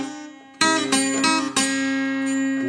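Fingerpicked acoustic guitar plays a blues phrase from a guitar lesson, with a thumb-plucked open fourth string under several bright plucked notes that ring out clearly, alone.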